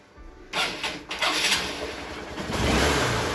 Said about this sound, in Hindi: तो हम बाइक को स्टार्ट करते हैं।